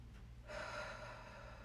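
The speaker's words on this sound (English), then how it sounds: "Everybody just breathe." A person takes one deep, audible breath, a soft inhale that swells after a moment and then holds, set over a low steady hum.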